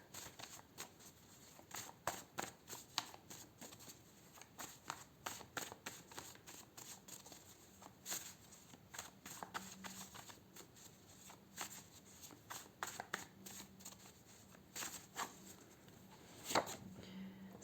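Tarot cards being shuffled by hand, a long run of rapid papery riffles and flicks close up, with sharper snaps near the end and no talking.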